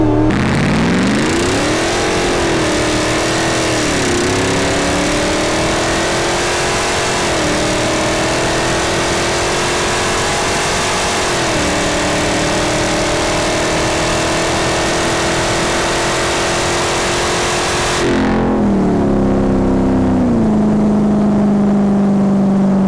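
A Hellcat-swapped Jeep Gladiator with over 750 horsepower launches hard, its supercharged engine roaring loud and close as the tires spin, pitch climbing through several gear changes before a sudden drop as the throttle lifts.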